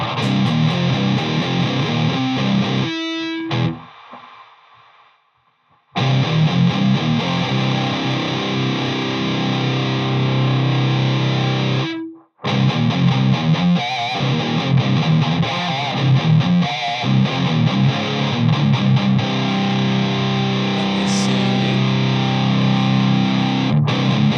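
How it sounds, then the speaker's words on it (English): Thick, buzzing fuzz-distorted electric guitar through a Solid Studio amp sustains loudly, cutting out abruptly twice to silence before the droning tone resumes. "That's not full distortion. That fuzz coming through."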